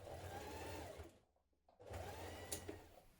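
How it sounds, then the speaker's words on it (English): A sewing machine stitches a hooded jacket hem in two loud, close whirring runs split by a short pause, with no voices. "Now we're going to hem the bottom of our jacket."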